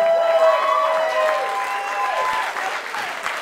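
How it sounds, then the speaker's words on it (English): Wedding guests at a country club reception in Rhode Island break into sustained, lively applause that fills the room and slowly tapers off. "Please give yourself a big round of applause for coming out to the Alpine Country Club on this lovely Saturday evening."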